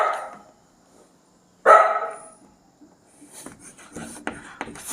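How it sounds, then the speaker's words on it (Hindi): Pet dog barking indoors, two loud sharp barks close by with a pause between them, followed by faint shuffling and scratching sounds. "मेरा कुत्ता ज़्यादा भौंक रहा है"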